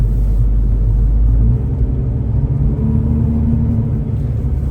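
A car engine idles in winter cold, a loud, steady low rumble close by that drops slightly in level early on, with no talking.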